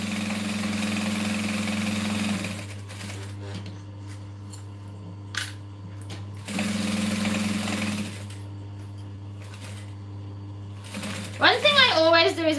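A sewing machine runs in two bursts of stitching on a clutch bag, sewing close to a piece of metal hardware, with quieter pauses in between, a steady background hum, and a short burst of sound near the end.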